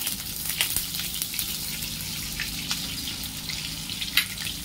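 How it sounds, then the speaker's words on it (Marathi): A piece of butter melts in hot oil in a kadhai, giving a steady, faint, close sizzle with a few sharper pops and spits, and no voices. "आता त्यामध्ये एक बटरचा तुकडा टाकला आहे, तो पण मेल्ट करून घेते थोडा"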